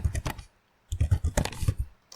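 Computer keyboard typing comes as quick bursts of close, crisp keystrokes, a short flurry, a brief pause, then another run of clicks.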